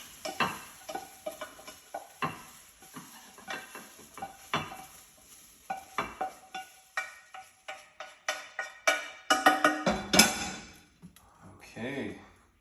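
Fried rice is stirred and scraped in a hot pan with a spatula, giving a close, irregular series of scraping knocks over a light sizzle and ending in a louder burst of clatter.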